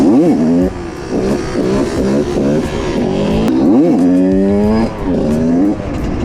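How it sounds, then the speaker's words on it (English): A moped engine revs loudly and repeatedly, its pitch sweeping up and dropping back in quick surges as it rides off at night, close and continuous with some road noise. "So we got this moped working, now we're leaving."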